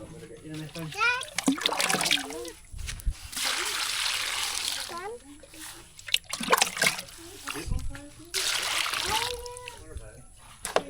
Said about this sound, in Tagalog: Dito ko na hugasan sa kawali ah.